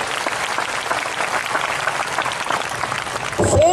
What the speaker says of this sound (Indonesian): Mana tepuk tangannya bagi firman Tuhan?